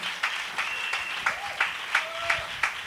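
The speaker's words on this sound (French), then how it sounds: "Clap your hand." Church congregation clapping hands in a steady rhythm, about nine sharp claps spaced evenly, moderately loud, with faint voices and a brief tone in the background.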